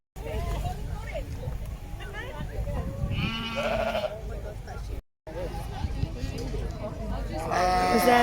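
Several sheep bleat repeatedly amid a crowd's background chatter at an agricultural show, with a loud, close bleat in the middle and more overlapping cries toward the end.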